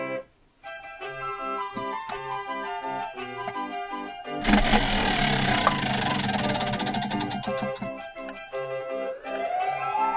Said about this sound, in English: Spin that wheel, Chazzy!